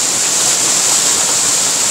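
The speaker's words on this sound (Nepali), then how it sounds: "खासै उचाइबाट छैन पानीको कोइराले घुमाइरहेको छ यो घट्टा" Water rushes steadily through the main turbine of a traditional ghatta water mill in Doti District, fed by a low-drop channel. It makes a continuous, loud, close broadband roar with no pauses and no voices.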